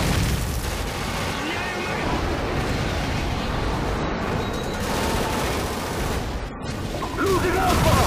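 Continuous booming explosions and gunfire from a friendly airstrike in a first-person shooter video game fill the scene with dense, loud, sustained rumbling. A game voice announces events over the noise.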